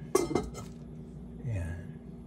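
A metal lid goes onto a pot of spicy sinigang na bangus with taro, giving a couple of quick clanks and clinks near the start, followed by a low rumble and quiet kitchen background.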